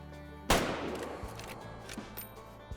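A single distant hunting rifle shot fired at an animal in the video game Way of the Hunter 2, a sharp crack followed by a rolling echo fading over quiet outdoor ambience.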